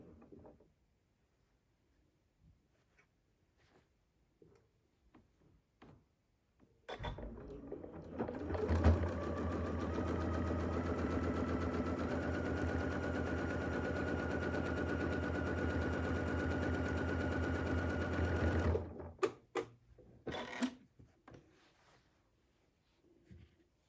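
A sewing machine stitches during free motion quilting with variegated grey thread, a steady rapid mechanical whir running for about twelve seconds before stopping, bracketed by quiet handling clicks.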